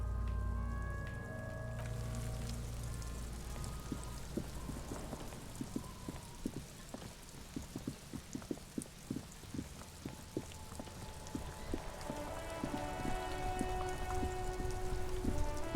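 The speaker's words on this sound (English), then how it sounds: "It's raining again." Steady rain falls throughout a scene in the video game Disco Elysium, a dense patter of drops on surfaces with scattered louder taps and a low background hum, heard alone without any voices.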